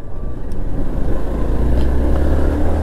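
A Hero Xpulse 200 4V Pro Rally Edition motorcycle being ridden, its engine droning with a low steady rumble and rushing wind noise, close and loud with no talk.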